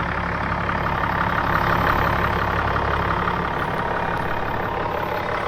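Under a truck on an overland trip in Canterbury, the front drive shaft spins with the transfer case locked, giving a steady, loud mechanical drone and rumble of the running drivetrain and engine that stays even throughout, with no talk.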